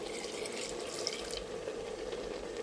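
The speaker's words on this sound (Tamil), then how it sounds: "ஒரு கிளாஸ் தண்ணி ஊற்றுறேன்" A glass of water is poured from close by into a cooking pot that already holds salt, making a steady splashing trickle that lasts under three seconds with no talk.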